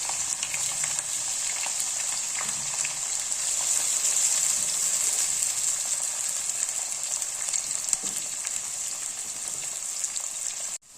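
Large sliced onions frying in oil until golden, giving a steady bright sizzle that holds at an even level, close up and alone, then stops abruptly at the end.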